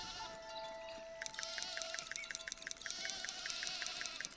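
Sheep in the medieval city-building video game Foundation bleat in a rapid, pulsing, wavering series at a steady rhythm, heard alone over a faint background hum with no talking.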